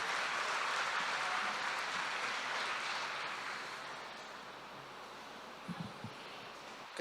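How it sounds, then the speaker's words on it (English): An audience applauds at a Wall of Honour ceremony in Essex, a steady wash of clapping that gradually thins and fades, with a few isolated claps near the end. "How about a round of applause for this gentleman over here"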